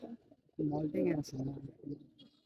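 A male Bagha pigeon coos close by in a short, throaty burst of a few rolling notes, with faint chirps in the background.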